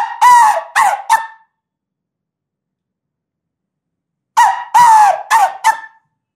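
A person imitates the high-pitched crowing call of a grey junglefowl, giving two bursts of three or four clipped, rising notes each, separated by a long silence, close and loud.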